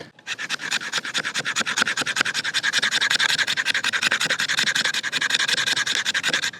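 A knife blade scraped rapidly and repeatedly across a surface, close and loud, with a fast even rhythm of rasping strokes and no talking.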